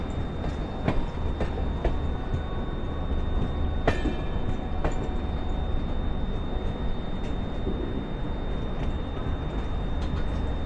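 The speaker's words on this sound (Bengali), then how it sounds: "Himgiri express বারাণসীতে total 8 minute halt দিয়ে 3:10 বারাণসী স্টেশন ছেড়ে বেরিয়ে যাচ্ছে" The Himgiri Express pulls out of Varanasi station, a loud continuous rumble with rhythmic clickety-clack of wheels over rail joints, sharp metallic clanks and a steady whine, heard close and alone.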